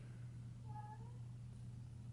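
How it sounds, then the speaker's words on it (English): A cat gives one short, faint meow from behind a closed bedroom door, heard over a steady low electrical hum in a quiet room. "My cat is at my door, so please ignore her."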